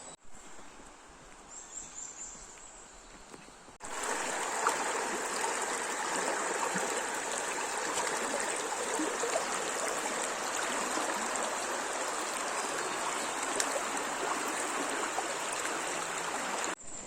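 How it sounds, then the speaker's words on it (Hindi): A natural river flows steadily and loudly near the listener, a continuous broad rush of water with faint bird calls audible during the quieter opening seconds before the flow swells. "यहाँ नेचुरल है, नदी है, पानी है"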